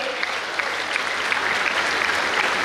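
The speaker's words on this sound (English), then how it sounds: "Give them a huge round of applause here" At a 2022 medical college graduation ceremony, a crowd applauds the graduating medical students with a full, continuous wash of clapping that stays loud and even from start to finish.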